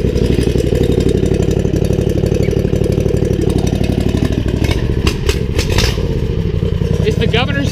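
A V-twin go-kart engine with its governor removed runs loud and close with a fast, rough, pulsing roar and clattering. People talk and shout over it.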